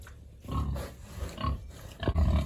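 A pig grunts and snuffles in low, rough bursts, close by, with quiet breathy pauses between the sounds.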